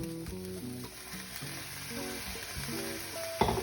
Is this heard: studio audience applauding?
no